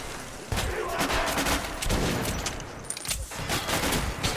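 Rapid bursts of gunfire ring out in the video game Metro, sharp repeated shots in clusters over the whole stretch, with faint talk in the background.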